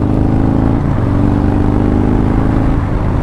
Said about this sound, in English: I just want to get out and kind of let that throttle loose a little bit